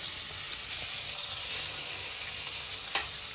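Onions fry in hot oil and desi ghee with cumin in a pan, a steady close sizzle and hiss that runs throughout, with a small stir or clink near the end and no one talking.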